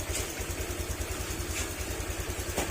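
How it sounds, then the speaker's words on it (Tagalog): A Honda Click 150 scooter engine idles close by after repair and an oil change, with a fast, even putter and a light mechanical clatter, running alone without talk. "okay ito na yung tunog ng makina niya mga sir"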